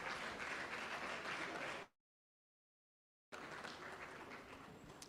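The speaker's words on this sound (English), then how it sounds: "applause till she gets to the high table." Audience applause fills a judges' banking seminar hall, steady and dense, broken by a brief total silence before clapping resumes slightly softer.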